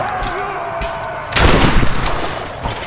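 Tomb Raider video game gunfire: a low rumble gives way to a loud burst of blasts and rattling shots with a booming tail, close and forceful.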